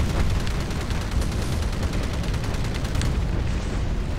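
Aircraft strafing gunfire in Battlestations Pacific Remastered during the US invasion of Tarawa: a dense, rapid stream of loud shots and booms over a heavy engine roar, continuous throughout with a brief thinning near the end.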